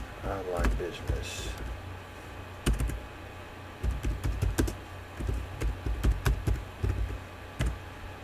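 Keys on a computer keyboard are tapped in uneven clusters of clicks while an ad is typed, with a brief voice near the start.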